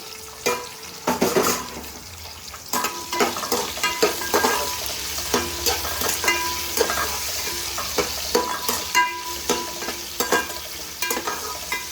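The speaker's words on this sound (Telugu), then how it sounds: "వేగిపోయిన తర్వాత ఉల్లిపాయలు పచ్చిమిర్చి టమోటా కూడా వేసేసుకుంటున్నాను ఒకసారి వాటితో పాటు వేగిపోతాయి" Onions, green chillies and tomato sizzle in a frying pan while a spoon stirs them in repeated scraping strokes. The frying is close and steady, and no one speaks.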